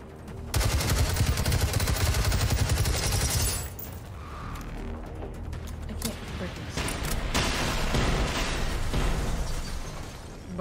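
Gunfire in the video game Generation Zero comes as dense bursts of shots and crackling impacts, loud and close, and continues through most of the stretch alongside other game noise.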